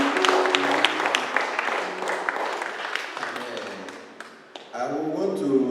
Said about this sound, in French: Vous méritez vraiment un applaudissement pour vous-même.